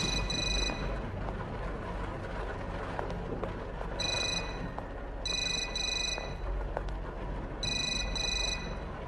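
Repeated electronic trilling rings of a telephone in a horror-themed video game, faint and tinny, coming in short double bursts over a low droning ambience.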